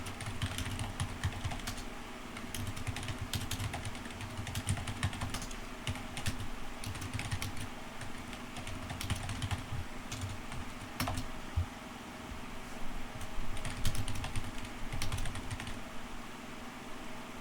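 Typing on a computer keyboard while coding a print function for a deadlock-detection class project, with steady clicky keystrokes running in bursts throughout over a low background hum, no talking.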